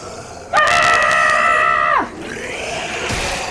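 A character lets out a loud war scream in The Walking Dead Telltale video game, one sustained, close, harsh yell lasting about a second and a half, followed by quieter game ambience.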